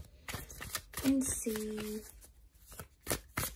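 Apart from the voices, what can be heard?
shuffling a Prisma tarot card deck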